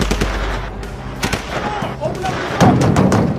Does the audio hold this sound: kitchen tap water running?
no